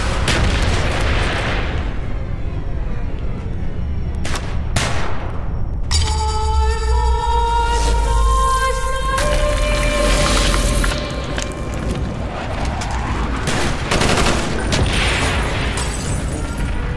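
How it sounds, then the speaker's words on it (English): Bombing-run explosions and gunfire in Call of Duty: Black Ops on Xbox One, with B-26 bombers overhead: continuous loud booms and rumbling blasts, a burst of sharp pops and ringing debris midway, then more heavy detonations. "B-26s are about to begin their bombing run."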